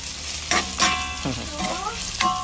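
Shredded boiled chicken sizzles in a hot pan as it is sautéed for sopas, with a steady frying hiss and a few scraping stirs of a utensil against the pan.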